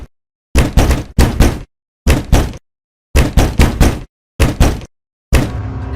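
Knocking on a house door at night: loud, close groups of sharp knocks, two to four raps per burst, separated by short silences and repeated several times.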